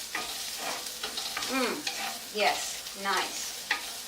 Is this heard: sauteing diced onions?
yes